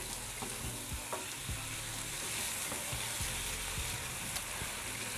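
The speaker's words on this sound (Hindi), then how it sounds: "अब इसको हम तेल में भून लेंगे" Mutton sizzles and crackles in hot oil, with a spoon scraping and stirring the pan at an irregular rhythm, close and continuous.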